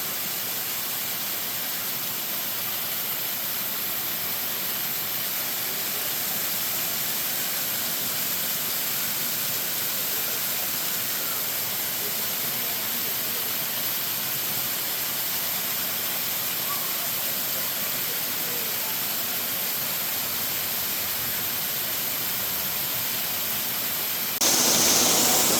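Tall Stiles Falls in Floyd County, Virginia, pours into a pool below, a constant loud hissing roar heard from near the base that holds steady throughout and swells louder at the very end.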